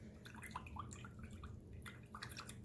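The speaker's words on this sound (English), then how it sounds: "Rinse my brush out." An acrylic-painting brush is swished and rinsed in a cup of water, soft close trickles and dripping splashes in quick irregular bursts at low level.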